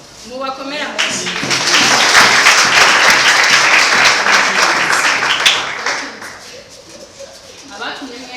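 An audience applauds at a casting call, a dense wash of clapping that builds quickly, holds steady for several seconds, then thins out with a few scattered claps and background voices near the end.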